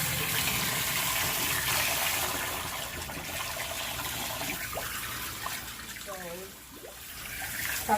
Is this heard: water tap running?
yes